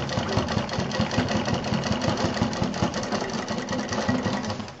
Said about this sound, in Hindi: अभी मैं एक कच्ची सिलाई करके आपको पलट के दिखाती हूँ